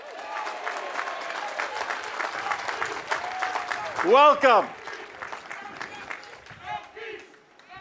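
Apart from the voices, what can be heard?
crowd applause at grand opening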